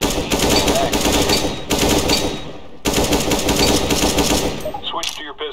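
Rapid automatic gunfire from Counter-Strike: Global Offensive, loud sustained bursts broken by two short pauses, ending in a few scattered shots and clinks.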